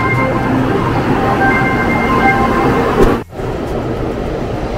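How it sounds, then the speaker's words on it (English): A Taiwan High Speed Rail train rumbles steadily close by as it pulls away from the station, its low roar continuing with a brief dip before settling again. "umalis na yung train na sinakyan namin"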